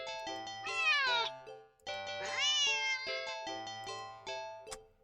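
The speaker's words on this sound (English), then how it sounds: "the cat meows sharply and dashes around the corner and into the hall." A cat gives two drawn-out, rising meows that bend upward in pitch, set against a steady tonal musical background with a sharp click near the end.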